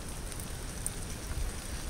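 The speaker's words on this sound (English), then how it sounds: "rainy, not good weather" Steady rain falling outdoors in Pickford, Michigan, during a wet November deer hunt, a soft continuous hiss of drops without distinct individual hits, moderately quiet and with no voices.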